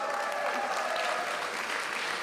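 Sustained audience applause and cheering for a performer from Mombasa at an arts and film showcase night, a dense, steady wash of clapping filling the room throughout.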